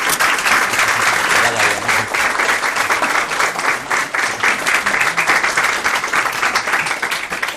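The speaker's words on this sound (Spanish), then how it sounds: "vamos a recibir a Aldo pues como se merece, pues con un aplauso, como es natural" An audience at a talk gives sustained, dense applause, loud and steady throughout as many hands clap together.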